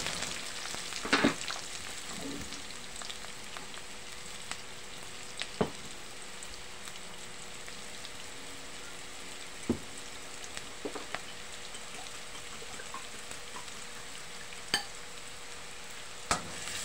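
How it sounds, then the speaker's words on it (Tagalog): Sliced onions dropped into hot cooking oil give a soft, steady sizzle, fairly faint and close, with a few sharp pops and stirring clicks scattered throughout. "dahil po mainit na rin ang mantika, ilagay na po natin ang sibuyas"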